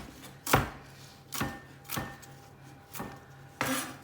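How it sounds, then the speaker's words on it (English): A knife roughly chops a vegetable for lamb soup, four separate thuds on a board spaced about a second apart, fairly quiet and close. "So I'm going to chop that up and add that in as well."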